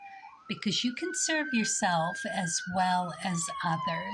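An emergency vehicle's siren rises and slowly drifts past outside in a Maine blizzard, a sustained wailing tone running beneath someone speaking close throughout.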